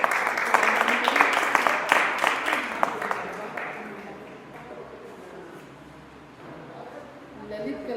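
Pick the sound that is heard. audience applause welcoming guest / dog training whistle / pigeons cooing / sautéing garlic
audience applause welcoming guest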